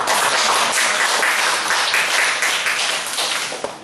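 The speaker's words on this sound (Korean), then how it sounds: "하나님께 감사와 찬양의 박수를 한번 올려드릴까요?" A church congregation bursts into sustained, dense applause of thanks and praise during a Sunday service, loud and close for several seconds, tapering slightly at the end.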